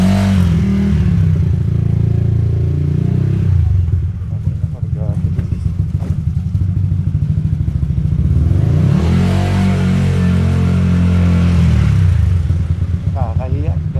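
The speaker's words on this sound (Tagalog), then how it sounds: "Gagi, ang lakas ng motor ni Andre." A Honda ADV 160 scooter engine with a check-engine fault runs loud and steady at close range, its low drone swelling and dipping with revs across the whole stretch. A voice talks over it at times.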